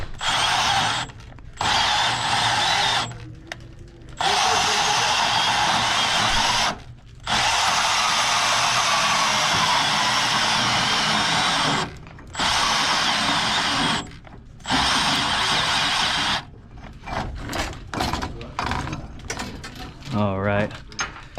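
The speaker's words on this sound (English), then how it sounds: "I should be able to cut this out with the bandsaw" A bandsaw cuts through a copper chilled-water pipe on a commercial four-pipe fan coil unit, running loud and steady in several bursts separated by short pauses, with handling noises near the end.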